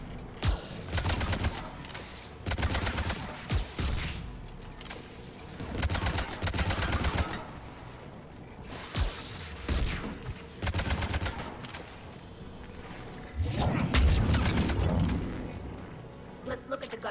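Anti-aircraft guns in Mass Effect 3 pound out loud, dense bursts of rapid gunfire in repeated volleys, one after another, with explosions and mechanical clatter filling the battle scene.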